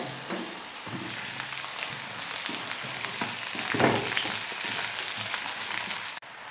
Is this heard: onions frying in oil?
yes